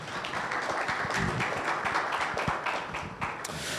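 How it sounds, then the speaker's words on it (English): Audience at an agriculture stakeholders' forum gives a ministry policy director a short round of scattered applause, moderately distant, with faint voices underneath. "A big round of applause for him is Richard Chumesi Ankra"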